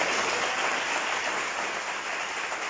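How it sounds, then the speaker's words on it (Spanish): A church congregation applauds during a Spanish-language worship service, a dense and steady wash of clapping that holds at an even level throughout with no voices standing out. "¿Cuántos le pueden dar un aplauso al Señor?"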